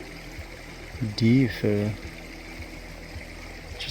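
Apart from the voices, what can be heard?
creek water flowing at a crossing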